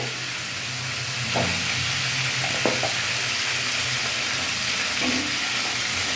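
Chicken meat fries in a pan with a steady, loud sizzle, punctuated by a few brief clinks or scrapes of stirring.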